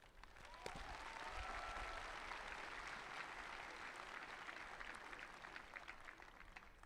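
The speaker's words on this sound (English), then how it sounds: "A quick round of applause for everyone here tonight" A round of applause from the crowd at a high school graduation ceremony, with sustained, fairly faint clapping from a large audience that fades slowly toward the end.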